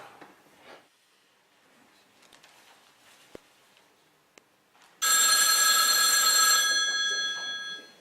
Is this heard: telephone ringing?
yes